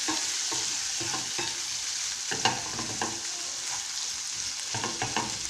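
Minced meat sizzles steadily in a pan, a constant close hiss of frying broken by repeated scraping and knocking as it is stirred, with no talking.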